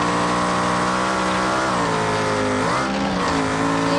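A drift car's engine revs loud and sustained in the BeamNG driving game, pitch rising and dipping as the throttle shifts, with no talk over it.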